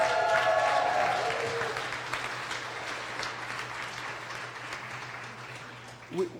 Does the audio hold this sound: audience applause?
yes